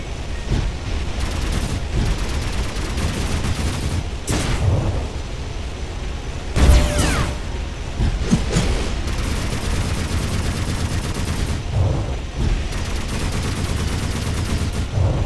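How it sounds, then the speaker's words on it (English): Explosions hit multiple targets in the video game Project AETHER, with a dense rumbling barrage of booms and sharp blasts, one especially loud hit midway, over continuous roaring battle noise. "If you manage to get other targets in range,"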